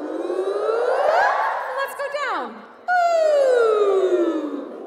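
Children's voices imitate sirens, sliding up and down in long wailing glides, first as a rising and falling sweep, then after a short break a second long descending siren call, loud and near in a concert hall setting.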